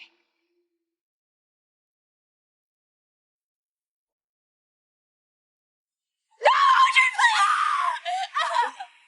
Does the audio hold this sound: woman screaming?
yes